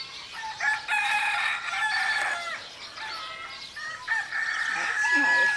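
Chickens cluck and a rooster crows nearby, drawn-out calls overlapping with short clucks, fairly loud and continuous throughout.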